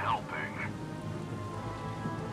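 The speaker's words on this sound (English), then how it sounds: "The rain's not helping" Rain falls in a steady, soft patter in the video game Valkyria Chronicles 4, a faint continuous wash that opens with a brief chirping sound effect and then runs on alone.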